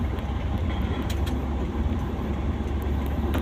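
A Toyota Avanza car drives along, giving a steady, loud rumble of engine and road noise with no pauses and no voices.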